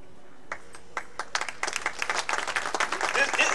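Audience applause at an awards dinner builds from scattered claps into a fuller, steady ovation, close and lively, with no talk over it.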